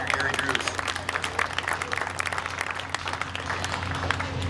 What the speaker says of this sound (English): Would you please give a round of applause to Commissioner Gary Drews?